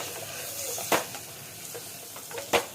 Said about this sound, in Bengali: এবার টমেটমটা দিয়ে দিচ্ছি এবার আদাটা একটু নেড়ে নিই